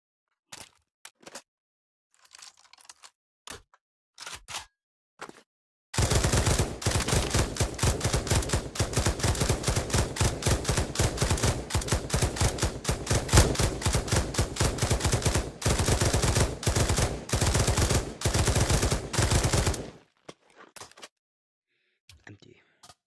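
Rapid automatic gunfire from a magazine being emptied in the Pavlov VR shooting game, a dense, loud, continuous burst lasting about fourteen seconds, preceded and followed by scattered single shots and clicks.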